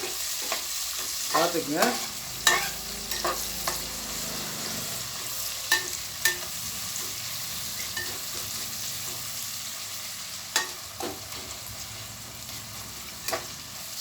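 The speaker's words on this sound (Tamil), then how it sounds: "ஸ்லைஸ்டு பிக் ஆனியன், புரிஞ்சுங்க. பொன்னிறமாக வதக்கிக்கலாம்" Sliced big onions sautéing until golden in a pan for chicken biryani, a soft continuous sizzle broken by sharp scrapes and clinks of a stirring spoon against the pan, with a brief spoken remark early on.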